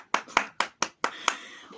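Six sharp, close hand claps in a steady, evenly spaced rhythm, each crisp and distinct with brief silence between, the last one trailing into faint room sound.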